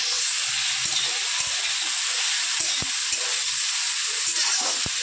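Food frying in a pan hisses in a constant, bright sizzle, with a few sharp utensil taps and clicks scattered through it and no talk.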